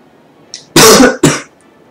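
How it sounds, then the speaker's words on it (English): A single person clears their throat and coughs: a faint short rasp, then two loud close bursts, the second shorter, against near silence. "Now I'm gonna cough."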